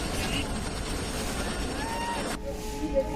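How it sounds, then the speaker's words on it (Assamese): The Rajdhani Express pulls into Rangia Junction with a steady, loud rumble of a train filling the platform air, then cuts off abruptly near the end, leaving faint tones and distant station hum. "চাগে এইফালৰ পৰা ৰাজধানী এক্সপ্ৰেছ আহি আছে, মানে অলপ শব্দ হৈ আছে, হৰ্ণ বজাই আছে।"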